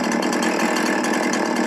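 A chainsaw in the video game Farming Simulator 19 cuts into a tree with a loud, continuous, buzzing engine drone and no talking.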